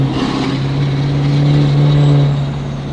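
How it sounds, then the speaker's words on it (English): A Ford dually tow truck built to 1000 horsepower holds a loud, deep exhaust drone close by, the engine note swelling briefly as the revs rise and then settling back, with no talking over it. "Should we get a little exhaust note real quick on the RPMs?"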